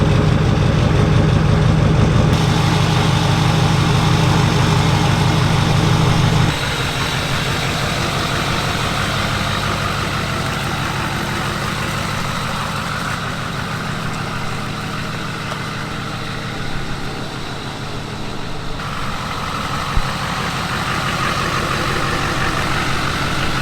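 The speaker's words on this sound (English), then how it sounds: "let me go ahead and start the Duramax up and back her up" A Duramax diesel truck engine runs as a steady, loud, low idle that carries on with no break and no talking.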